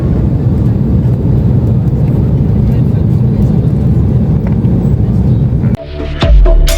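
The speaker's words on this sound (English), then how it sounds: "After almost 40 to 45 minutes of flying, it was time to land" A steady low roar fills the cabin of a night flight from Mombasa to Nairobi during descent, loud and constant, then a sudden drop and shift in the sound near the end.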